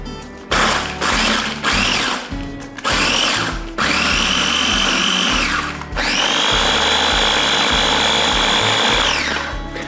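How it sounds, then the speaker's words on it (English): A kitchen blender blitzes biscuits with softened butter for a no-bake strawberry cheesecake base: a few short loud whirring pulses, then two long sustained high motor whines, close and alone. "so you want to blitz them up"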